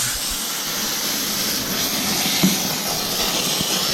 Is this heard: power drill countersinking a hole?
no